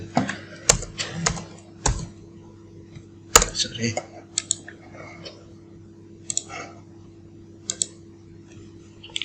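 Keys clatter in scattered bursts as someone types data into a Microsoft Excel spreadsheet on a computer keyboard, a close, crisp clicking under a steady low hum with brief pauses between words.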